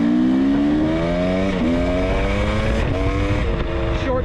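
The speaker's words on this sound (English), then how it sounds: "the motor seems like it's running really good" A carbureted TX300 two-stroke trail bike engine runs loud and close, revving steadily with its pitch dropping and climbing again through several short shifts, a continuous buzzing drone throughout.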